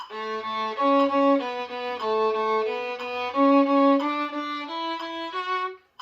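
A violin plays a three-octave Carl Flesch scale, rising and falling, in bowed triplets, each pitch repeated three times in a steady, even rhythm, with no voices.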